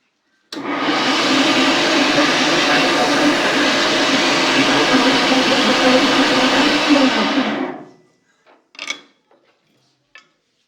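Electric mixer grinder whirring loudly and steadily for about seven seconds as it grinds a Kolhapuri onion garlic masala chutney with chili powder, then cutting off, followed by a few brief clinks of the jar.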